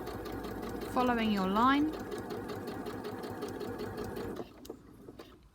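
A sewing machine stitches in a zip, giving a steady close mechanical whirr with rapid needle ticking that stops near the end, while a voice talks over it.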